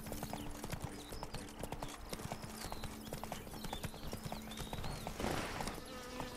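Rhythmic hoofbeats of a horse in The Witcher 3: Blood and Wine, a steady quiet clip-clop trot running throughout, with a short burst of movement noise near the end.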